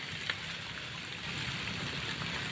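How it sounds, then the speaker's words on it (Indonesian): Rain falls as a steady broadband hiss with faint patters, close and continuous, growing slightly heavier midway. "Waduh hujan bro."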